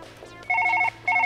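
A telephone rings in the video game Surgeon Simulator 2013, two loud electronic trilling bursts close up, separated by a short pause.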